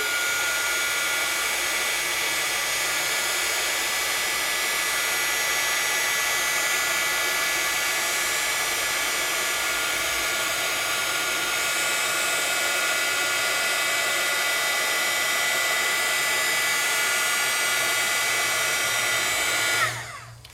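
An embossing heat tool heat-sets embossed ink on a card: a loud, steady blowing whir runs unbroken for about twenty seconds, close to the microphone, then cuts off abruptly.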